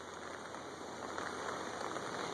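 Steady rain patters on surfaces outdoors, a dense, even hiss of drops at moderate level with no voices or other sounds.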